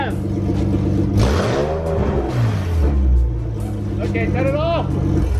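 A car with open test pipes revs its engine, the exhaust note climbing and sweeping up and down in pitch, with a loud sustained drone underneath and voices talking over it.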